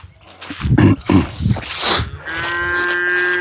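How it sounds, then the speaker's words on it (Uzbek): Young bulls moo at close range during a livestock showing in rural Samarqand, several low calls in quick succession, then a long steady tonal bellow at the end. "Bu qolgan ho'kizchalar, ana."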